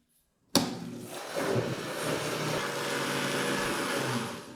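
A blender mixing milk and starch starts abruptly and runs steadily at high speed, a loud continuous motor whir with churning liquid, rising slightly after a second.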